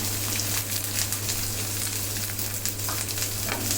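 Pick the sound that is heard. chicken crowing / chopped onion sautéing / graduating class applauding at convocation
chopped onion sautéing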